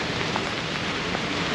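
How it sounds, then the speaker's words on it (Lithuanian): Steady rain falls on a wet street in Batumi, Georgia, with puddles everywhere, making a dense, even hiss with faint scattered drop impacts and no pauses. "visur balos, visur lyja"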